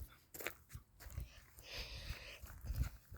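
Dogs on a farm make noise close by in short, irregular bursts, with chewing or crunching mixed into the scuffling.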